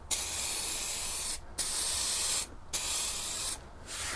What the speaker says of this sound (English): Now let's spray them down with the lacquer.